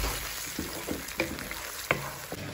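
Onions frying softly in a pan while they brown, a steady low sizzle broken by a few brief utensil clicks, close and fairly quiet with no talk.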